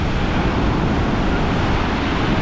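Strong storm waves at Divnomorskoye on the Black Sea pound the shore in a dense, loud, continuous roar of surf and wind, with no distinct pauses and no one talking.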